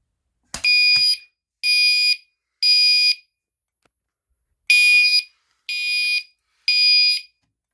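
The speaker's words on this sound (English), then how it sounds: "Let's go ahead and pull the fire alarm and see how it's supposed to work." A loud electronic fire alarm horn blasts in six half-second bursts, three, then a pause, then three more, with an evenly spaced rhythm.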